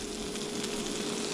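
Food fries on a stovetop with a dense, steady sizzle, close and continuous throughout the short stretch, with no talk over it.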